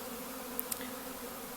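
Honeybees from a captured swarm buzz around a hive box holding honey and foundation frames. The buzzing is a steady, dense drone close by, with a couple of brief sharper ticks and no voices.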